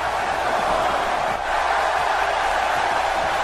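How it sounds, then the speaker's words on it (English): A wrestling show crowd gives a split reaction, a steady wash of many voices cheering and murmuring together at a distance. "Split crowd reaction as both men are hyping up."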